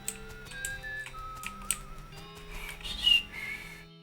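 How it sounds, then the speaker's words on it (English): A person whistling a wavering, uneven tune in the West of Loathing game, with short sustained notes sliding between pitches and a brighter peak near the end, with no talking. "I can't whistle very well."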